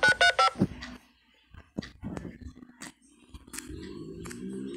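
Telephone keypad dialing in the Roblox video game, a quick burst of several loud DTMF tones at the start, followed by brief clicks and a low steady hum.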